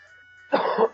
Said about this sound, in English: I kind of have like a cough or something